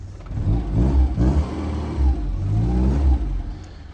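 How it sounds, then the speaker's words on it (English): A 1968 Mini Traveller MK2 1000 automatic's small engine revs up several times in quick bursts, rising and falling in pitch, loud and close, between steady idle. "Let's give her a little rev up and see if you can hear the engine."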